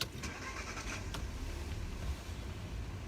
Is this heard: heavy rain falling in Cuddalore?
no